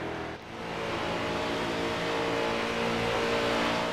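Street Stock race cars roar across the finish line at Charlotte in iRacing, a loud steady wall of engine drone that swells slightly and holds, close and continuous with no talk.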